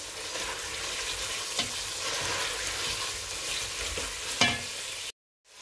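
Tomato and beef sizzle in a pan with a steady, dense frying hiss and a few brief pops. The sound cuts abruptly to silence at the very end.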